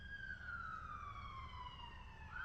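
An emergency siren wails in the distance, its tone sliding slowly downward as it passes, faint and steady over low background rumble, with no talking.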